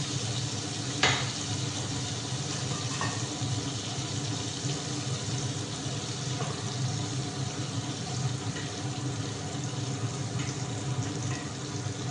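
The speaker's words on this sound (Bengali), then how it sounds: "পটল ভাজাটা হয়ে এসছে" Pointed gourd (potol) slices fry in a pan with a steady, even sizzle throughout, marked by an occasional faint clink, and no voices.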